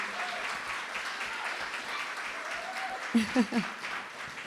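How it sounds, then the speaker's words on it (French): Applause from a church concert audience for the accompanying instrumentalists, a soft, even patter of clapping with a voice speaking over it and a few brief louder vocal bursts near the end. "on peut encore les applaudir et les encourager"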